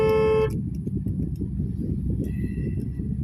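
A car pulls out as a horn gives a short honk at the start, followed by a steady low rumble of the vehicle moving, with a faint second tone later.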